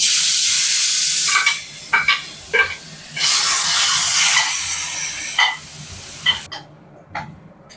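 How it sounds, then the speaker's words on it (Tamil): Onion, mint and coriander paste with fennel sautéing in hot oil, loud crackling sizzle in bursts with stirring, easing to quieter scattered pops at the end. "இது நல்லா வதங்கிருச்சு, வெங்காயமும் புதினா கொத்தமல்லி எல்லாம்."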